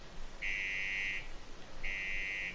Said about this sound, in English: Protect Steelheart while he tests the alarm.